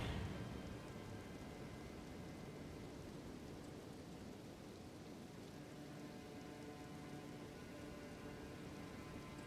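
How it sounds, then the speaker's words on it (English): Steady rain falls in Elden Ring at the Finger Ruins of Rhia, a dense, even hiss of drops on the ground that stays constant throughout with no voices. "Started raining again."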